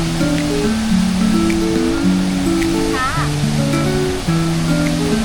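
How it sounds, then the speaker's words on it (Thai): Rushing water from Ta Tung waterfall in Chaiyaphum, Thailand, its brownish flood flow giving a steady broadband roar beneath a person speaking continuously throughout. "และนี่คือน้ำตกตาตุ้ง"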